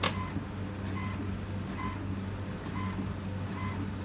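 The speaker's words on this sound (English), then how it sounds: "I hear it printing." An HP Smart Tank 7001 inkjet printer printing on cardstock hums steadily with a low mechanical drone, punctuated by regular soft beeping or whirring pulses about once per second.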